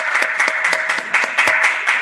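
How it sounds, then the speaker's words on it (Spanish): A lecture audience claps together in a short round of applause, distinct close hand claps landing in a loose rhythm, loud and with no talking. "Un aplauso también."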